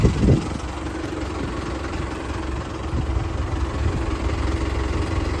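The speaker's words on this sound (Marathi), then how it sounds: "ट्रॅक्टर पण आलेला आहे." A tractor engine idles nearby on a farm, a steady low chugging rumble with light vibration and no voices.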